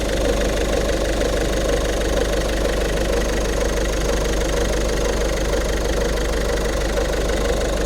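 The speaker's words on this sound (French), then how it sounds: "Je vous laisse écouter le bruit du moteur," Idling Peugeot 3008 1.5 BlueHDi diesel engine with an EAT8 gearbox, a steady close drone with a faint knocking clatter, holding level and continuous throughout with no voices.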